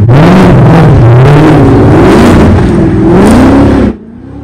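A loud, close 5-liter V8 Mustang engine revs repeatedly, its roar rising and falling in waves before cutting off abruptly to a low idle.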